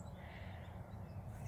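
Crows cawing outdoors among many gathered birds, a faint, brief burst of calls over a low rumbling background.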